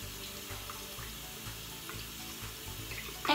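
Water runs steadily from a tap into a sink during a skincare routine, a continuous moderate splashing hiss with no talking.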